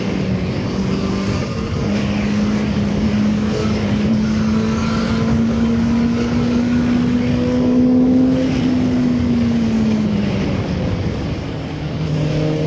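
Four-cylinder VOGE RR 500 S motorcycle heard while riding, its engine holding a loud steady drone that climbs slowly in pitch and then falls away, mixed with wind rush.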